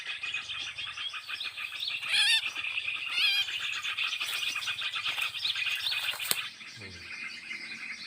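Birds chirp and call continuously in a rice field in Aceh, a dense, busy chorus with a couple of louder rising calls. The likely cotton starling cannot be singled out, and the sound thins and quiets near the end.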